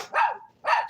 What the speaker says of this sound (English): Look at these crazy dogs.